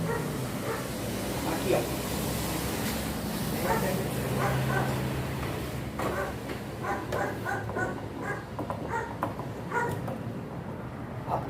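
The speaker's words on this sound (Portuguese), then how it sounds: "participação especial em nossos vídeos aqui, o cachorrinho do vizinho aí, participação especial em nossos vídeos" A neighbour's small dog yaps in short, repeated barks at a distance, under steady background noise and someone talking while he assembles a Samsung washing machine.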